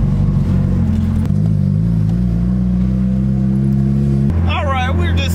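Car fitted with an M32 gearbox and limited slip differential, engine droning steadily from inside the cabin as it drives, pitch stepping between gears, with a voice speaking briefly at the end.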